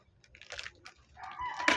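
A chicken gives soft, short clucks and murmurs close by, ending in a louder squawk. Nobody talks.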